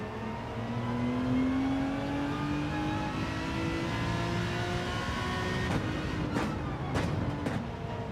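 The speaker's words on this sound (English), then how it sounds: "Listen to that engine." Race car engine in Gran Turismo 7 lobby racing, a steady rising whine as it accelerates through the gears, with a few sharp clicks or shifts near the end.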